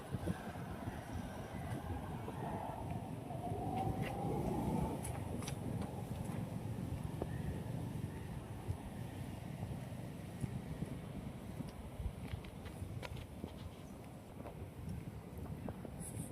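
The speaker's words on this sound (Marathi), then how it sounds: "सकाळी थंडी वाजते. वारं एवढं छान सुटलंय." Cool morning wind blows outdoors near flowers, a soft, steady rumble buffeting the microphone throughout, with faint voices now and then.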